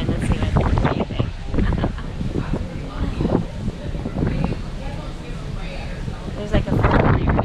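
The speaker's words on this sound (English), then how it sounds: "The wind is very distracting and very much a problem." Wind buffets the microphone on the open deck of the Norwegian Getaway cruise ship at sea, a constant rough roar with gusts, while people talk nearby under it.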